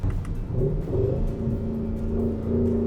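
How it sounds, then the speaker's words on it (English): A low, steady engine rumble through the titanium sports exhaust of a 2023 Porsche Cayenne Turbo GT SUV, a deep droning hum, continuous and fairly loud throughout, like a vehicle idling nearby. "So this car has a titanium sports exhaust, which sounds insane like that."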